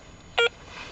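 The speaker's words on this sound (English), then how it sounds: "listen very, very carefully to the beep" A single short electronic beep from a handheld phone-finding device, clear and tonal, standing alone against a quiet background.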